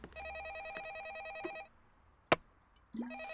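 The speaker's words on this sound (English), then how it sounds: "I don't need to answer that phone." In the horror video game A Favor, a telephone's warbling electronic ring sounds close and clear, then stops, followed by a sharp click and a brief low tone as the ringing resumes.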